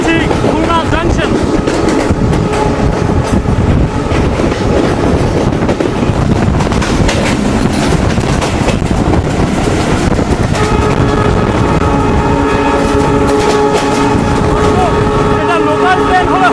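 Onboard the Rocket Mail train passing Khulna Junction, a loud continuous rumble of wheels and rattling carriages fills the span with wind buffeting, and a voice talks over the noise.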